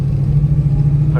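A stick-shift car's engine hums low and steady from inside the cabin as the driver pulls away on the gas, a brief rise in pitch near the end.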